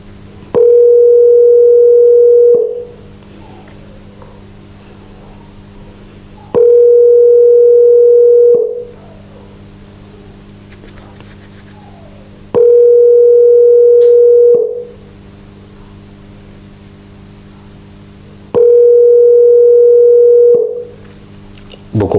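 A telephone line rings out while a television station calls a guest on air: four long, loud, evenly spaced tone bursts, each about two seconds long, separated by quieter gaps of background noise.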